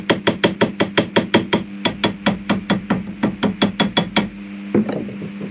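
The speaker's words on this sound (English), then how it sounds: "this is where you use your slag hammer just to tap the slag off." A slag hammer taps slag off a fresh weld in quick metallic strikes, around two dozen sharp clinks in a fast, uneven rhythm with brief pauses, close and clear against a low steady hum.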